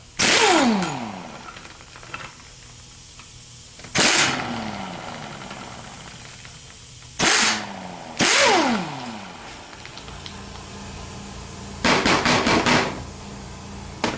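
Loud, close bursts from a power tool loosen the nut on a Chevy 130D alternator. There are about five short whirring blasts with falling pitch, each followed by silence, and a final quick rattling burst.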